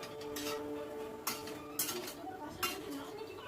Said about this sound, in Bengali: আবার সব কিছু ভালো করে মিশিয়ে